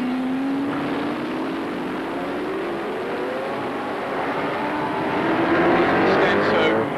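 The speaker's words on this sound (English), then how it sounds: "But his teammate, Larry Perkins, driving absolutely exuberantly back there in second place, car number 12 being hounded." Race cars at the 1979 Rothmans International Series round at Oran Park circuit, with engine tones sweeping upward as cars pass, over steady crowd and track noise and commentary talk.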